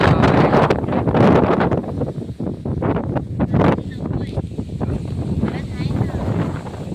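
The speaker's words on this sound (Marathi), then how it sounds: "अतिशय भारी वारा सुटलाय" Strong wind gusts outdoors buffet the microphone with loud, rumbling roars that rise and fall, while a person walking home through a garden talks over it.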